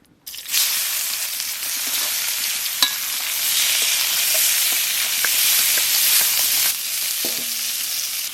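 Onions frying in fish oil in a village kitchen, a steady loud sizzle with occasional stirring scrapes, beginning abruptly after a brief quiet moment and continuing throughout with no talk.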